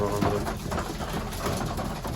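Pigeons coo in a low, throaty murmur amid a busy flock, with a voice talking over them.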